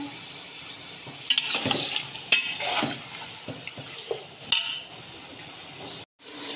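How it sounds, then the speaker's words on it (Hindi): Beef browns in a karahi with onions and ginger-garlic paste, frying under a steady sizzle while a spoon stirs and clinks sharply against the pan several times, up close. "2 से 3 मिनट गोश्त को फ्राई होते हुए हो गए हैं।"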